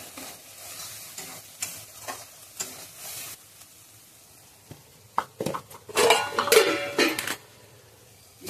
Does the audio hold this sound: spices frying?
yes